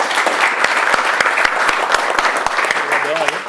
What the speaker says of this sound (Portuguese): Salve de palmas de novo.